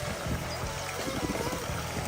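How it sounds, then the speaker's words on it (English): Water of the Triton and Dryads fountain in Regent's Park, London, splashes and patters continuously nearby, a soft steady rush with gentle pulsing gurgles in the rain. "What a nice place to sit and listen to the water."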